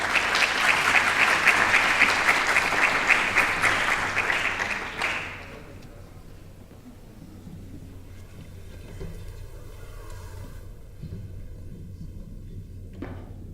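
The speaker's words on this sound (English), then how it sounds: "Uma salva de palmas, por favor." A conference audience at the Lisbon Game Conference claps loudly and steadily for about five seconds to welcome a speaker, then the applause stops abruptly, leaving quiet room tone with faint shuffling.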